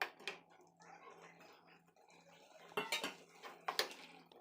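Turmeric and chili powder being mixed into a pot of tamarind gravy with a spoon, giving quiet scattered clinks and scrapes of metal against the vessel, louder knocks toward the end.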